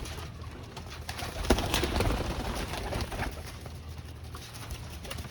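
Pigeons coo steadily at a pigeon sale in Sarai Alamgir, Jhelum, Pakistan. Soft, overlapping calls repeat over a constant bed of flock noise and no one speaks.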